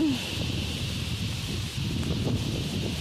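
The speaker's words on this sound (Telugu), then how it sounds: "గాలికి చాలా దారుణంగా ఉంది గాలి" Strong storm wind roars in a steady broadband rush, buffeting close up with no let-up for the whole stretch.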